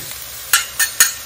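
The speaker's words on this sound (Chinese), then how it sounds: "直接用这个下面的猪油爆香蒜末" Minced garlic frying in rendered lard beneath stir-fried pork: a faint steady sizzle with three quick, sharp scraping stirs of a spatula in the pan, close by.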